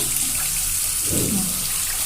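Water runs steadily from a tap during washing up after tooth brushing, a constant close hiss with a brief splash in the middle and no talk.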